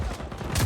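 A sniper rifle in the video game Just Cause 4 fires, a brief, loud, crackling burst of gunfire with a sharp report toward the end, alone with no talk.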